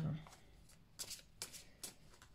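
Tarot cards being shuffled by hand in short riffling bursts, three distinct crisp flurries after a soft opening rustle, close and fairly quiet with no talk over them.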